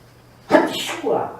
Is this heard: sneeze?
yes